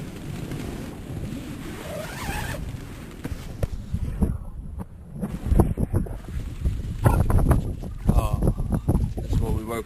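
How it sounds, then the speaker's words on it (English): Strong wind gusts buffet a lakeside campsite during a yellow weather warning, roaring and rumbling against the microphone in uneven bursts, with someone talking over it. "It's windy."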